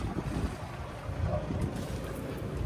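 Sailing yacht drawing up to a marina fuel station, with steady wind buffeting the microphone and a low rumble of water and hull running close and continuous, no voices.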